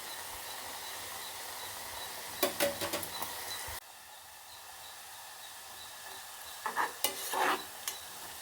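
Carrot pieces fry in hot coconut oil with a steady, soft sizzling hiss, broken by two brief clusters of close clinks and scrapes from stirring.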